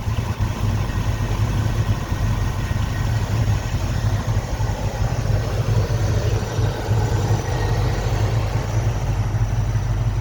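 A 1979 Pontiac Trans Am 10th Anniversary Limited Edition sits idling, its engine giving a steady, even rumble that stays loud and close for the whole stretch, with no one speaking.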